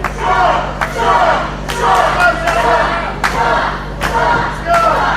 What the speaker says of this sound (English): Crowd's chanting for Sean Denny right now.